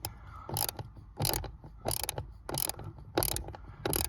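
A ratchet undoes a Torx 20 screw on the pollen filter cover of a Renault Megane MK3, giving six short, evenly spaced bursts of close, crisp clicking with brief pauses between.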